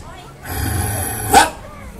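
A person imitates a dog, giving one drawn-out growly bark that ends in a short, sharp yelp.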